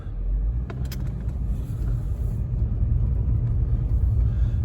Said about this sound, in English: let me drive around just a little bit to see what that does to the tires